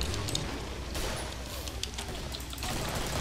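Gunfire from the video game Killing Floor while shooting at enemies, a dense, continuous fusillade of shots at moderate level filling the whole stretch, with no one talking.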